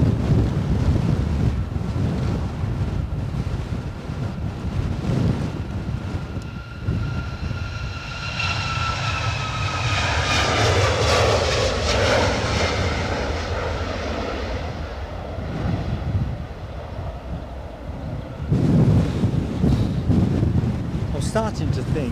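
A Ryanair airliner taking off at Edinburgh Airport, a loud rising jet roar and whine that swells, peaks and slowly recedes, heard outdoors with wind buffeting the microphone and a voice talking at times.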